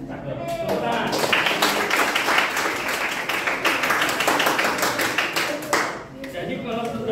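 A classroom group claps hands in a dense burst of applause that lasts several seconds and fades toward the end, with voices mixed in.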